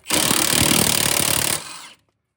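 Power tool tightening a bolt on the suspension of a 2007–2011 Toyota Camry during shock and strut replacement, one loud sustained whirring-rattling burst of about two seconds that cuts off abruptly.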